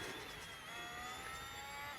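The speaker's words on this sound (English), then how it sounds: "Let's listen to the engine noise" A Formula 1 race car engine in the F1 Manager 24 video game, racing at Imola, gives a steady high-pitched whine at sustained revs with no talk.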